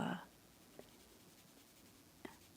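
Graphite pencil shading on paper while working on a Zentangle drawing: a very quiet, soft scratching broken by two light ticks of the pencil.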